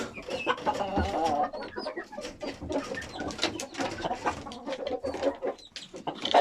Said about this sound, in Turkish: Çok güzel bir horoz olacak.